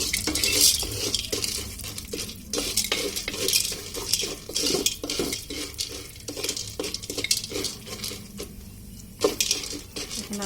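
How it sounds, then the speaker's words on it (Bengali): Popcorn being stirred and lightly fried in a pan for sweet popcorn, a steady run of close scraping and clinking stirs against the metal with faint sizzling underneath, no speech over it. "একটু হালকা ভাজা করে তারপর ঢেকে দিব।"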